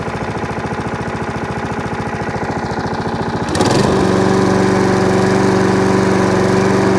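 A serviced Hayter Harrier 41 Auto Drive lawn mower engine runs close and loud, a steady pulsing chug that shifts after a few seconds into a higher, smoother hum as the engine speed changes.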